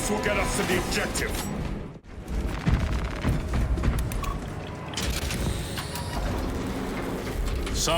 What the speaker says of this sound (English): Sounds like the mechanism is damaged